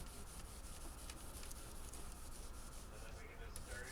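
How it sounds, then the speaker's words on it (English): Gray Scotch-Brite pad rubbing the finish of a Teisco EP-11T guitar, a soft, steady scrubbing hiss with quick repeated strokes, faint and close. "After 1000, I use the gray Scotch-Brite pad,"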